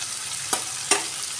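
Onions fry in a pan with a steady, quiet sizzle, broken by two brief louder stirring scrapes, heard close with no talking.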